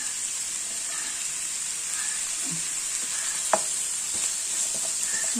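Onions sauté in a pan for beef curry with a continuous close sizzle and occasional light stirring scrapes.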